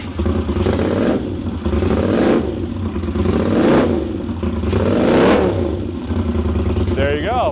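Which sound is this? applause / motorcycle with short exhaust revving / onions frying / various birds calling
motorcycle with short exhaust revving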